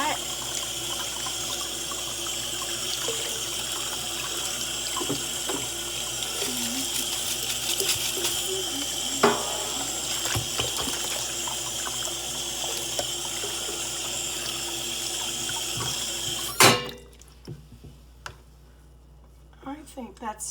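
A kitchen tap runs steadily with water splashing into a sink during a Bosch dishwasher repair, a continuous rushing stream that shuts off near the end, followed by quiet handling clatter and brief talk.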